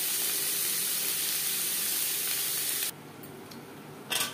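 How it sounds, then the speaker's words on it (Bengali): Onions frying in oil in a pan for a vegetable fish curry, giving a steady broadband sizzle that drops away sharply near the end, with a brief flare of hiss just after. "পেঁয়াজ লালচে করে ভেজে নেব"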